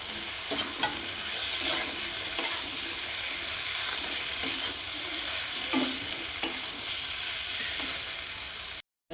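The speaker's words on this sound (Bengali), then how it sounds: "সোয়াবিন দিয়ে দিই।" Soybean chunks tipped into a hot frying pan bring a steady sizzle and hiss with occasional scraping stirs and clicks, close and even, with no talking.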